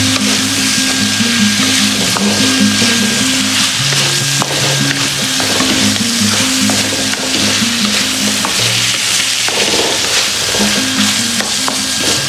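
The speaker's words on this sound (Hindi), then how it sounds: "तो उसकी भुनाई करेंगे जब तक गोश्त गलता नहीं है और जब तक उसका पानी सूखता नहीं है" Meat being fried down (bhunai) in a pot, a loud, steady close sizzle with scraping and stirring strokes throughout, no voices.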